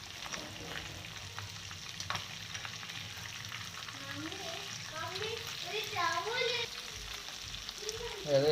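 Chicken pieces frying in a pan make a soft, steady crackle and sizzle, fairly quiet and continuous, while a voice speaks over it in the second half.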